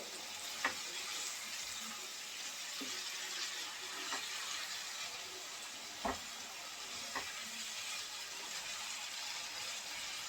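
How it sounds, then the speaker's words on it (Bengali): Dried loitta fish frying with spices in a pan makes a continuous soft sizzle, with occasional light clicks of stirring and no voices. "এই পর্যায়ে একটু সময় নিয়ে ভালো করে ভুনে নিতে হবে"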